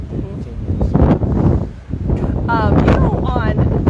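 Steady wind roars and buffets across the whole stretch, with a rustling, gusty texture and faint voices mixed in underneath.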